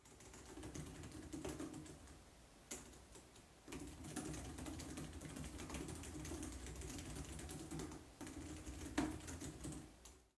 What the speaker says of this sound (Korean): 타이핑을 할 때 매우 조용하고 키들이 단단하게 고정이 되어 있기 때문에